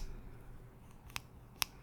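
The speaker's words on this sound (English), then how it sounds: "Then we'll go back to the main scissors." Salon scissors snipping hair in a quiet room, with two sharp, close metallic snips about half a second apart over a soft background hush.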